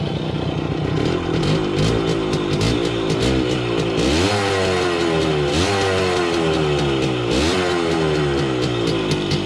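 A Bridgestone TMX 100 motorcycle engine idles loudly nearby with a steady putter, punctuated by a few brief revs that rise and fall.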